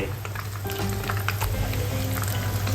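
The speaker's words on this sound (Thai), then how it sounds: "ปาดลลี่ชุบแป้งทอดครับ" Battered dory fish frying in hot oil, a steady close sizzle with crackling bubbles and light popping throughout.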